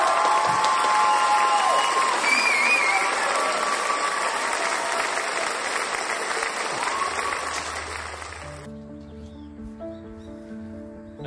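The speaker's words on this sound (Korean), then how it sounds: "다 같이 우리 박수로 우리 목사님 환영하겠습니다." A church congregation gives a pastor a full, sustained round of applause with some cheering that fades out after about eight seconds. Soft, steady instrumental notes take over at the end.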